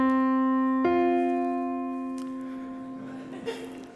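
Two sustained tones ring out, a C held alone, then an F joins at about one second, both slowly fading with a faint rustle near the end.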